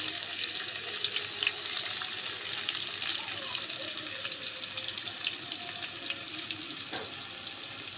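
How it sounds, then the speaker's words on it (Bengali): Chopped onions fry in hot oil for beresta, a steady dense sizzle running throughout at moderate level with faint utensil clinks, no voices. "বেরেস্তা করার জন্য দিয়ে দিলাম কুচানো পেঁয়াজ"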